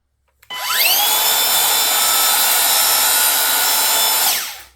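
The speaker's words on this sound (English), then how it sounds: "you take your circular saw, you line it up, where the blade's going to be. And basically, you're going to make a plunge cut." Circular saw plunge cutting into wood: the motor spins up with a rising whine, holds a loud steady buzzing cut for several seconds, then winds down, close and alone.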